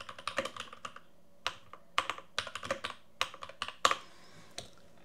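Quiet keys on a Bluetooth keyboard click and clack in quick uneven bursts, someone typing close by with short pauses between runs.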